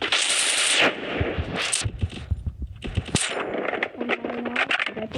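Rapid automatic gunfire bursts and single shots ring out in the Free Fire battle royale video game, loud and dense at first, then scattered with interface sounds and effects.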